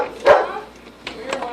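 A dog barks at a back door during a tense standoff in a house, sharp bursts near the start and again toward the end, over people speaking.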